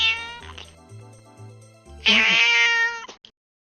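A house cat meows several times, with short low-pitched calls early, then a loud drawn-out yowl near the end, heard close and alone.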